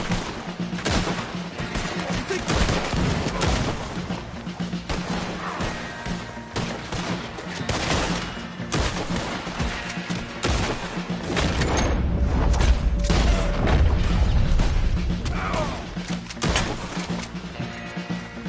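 A cannon and gunfire battle in the Red Dead Redemption 2 video game: continuous rifle and pistol shots crackle and pop in dense volleys, with heavy booms and a swelling low rumble midway.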